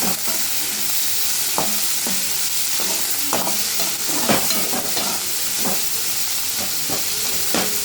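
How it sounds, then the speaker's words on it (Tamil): A mixture with green chillies is stirred continuously in a hot pan. A steady, close sizzle runs under repeated spoon scrapes and knocks against the pan, with no one speaking. "நல்லா கிளறி விட்டுட்டே இருக்கணும்."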